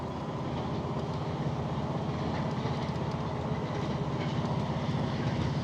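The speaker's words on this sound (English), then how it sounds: "That's the Metro train." A Metro train rolls past beside a bike trail on the Fox River Trail, a steady continuous rumble with faint clickety-clack of wheels, moderately distant and sustained throughout, with no voices.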